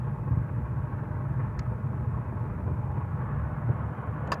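A car engine holds a steady low rumble while the driver balances the clutch for a hill start on a steep slope, loud and continuous with no talk.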